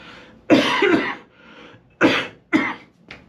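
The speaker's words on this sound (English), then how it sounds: "I'm going to cough horribly" Several harsh coughs come in quick bursts, a loud pair first, then two more sharp coughs and a faint trailing one, close to the listener.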